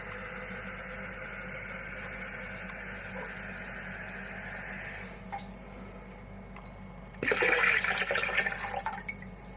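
Another litre of water pours into a container holding strawberry nectar, first as a steady rushing stream that stops partway, then as a louder splashy burst near the end, with a low hum underneath and no speech.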